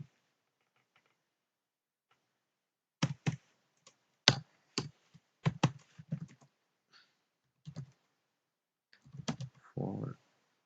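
Scattered bursts of keystrokes on a computer keyboard while code is entered, irregular clusters of close clicks separated by pauses, quiet room with no talking.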